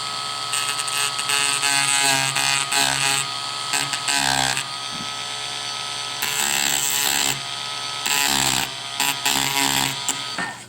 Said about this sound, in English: So very carefully, we'll sand this down a little bit.